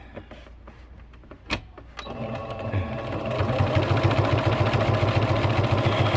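A sewing machine stitching down folded fabric: a few quiet clicks and a sharp knock, then the motor starts and settles into a fast, even, rattling stitch that grows steadier and louder to the end.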